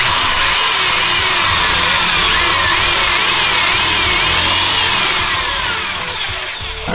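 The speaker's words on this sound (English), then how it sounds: "he's just gonna drill almost like a square" A power tool runs steadily and loudly as it cuts a hole into the metal step bar of a 2018 Ford F150 Lariat, with a whining grind that eases slightly near the end.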